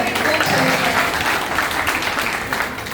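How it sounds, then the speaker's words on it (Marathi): An audience at an elders' felicitation event breaks into loud, sustained applause, dense clapping from many hands filling the room throughout, with voices mixed in beneath. "जोरात टाळ्या पाहिजे"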